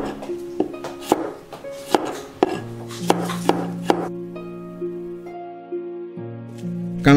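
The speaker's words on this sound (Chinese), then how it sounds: "大蒜切片" A knife slices garlic on a cutting board in a run of sharp, quick cuts over the first few seconds, then stops. Soft background music continues alone.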